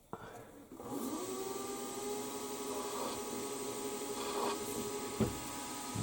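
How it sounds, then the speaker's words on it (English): Warco WM16B milling machine chamfering a hole, a steady motor hum with cutting whine starting after a brief quiet moment and continuing evenly, with a small knock near the end. "There we are, chamfer the hole."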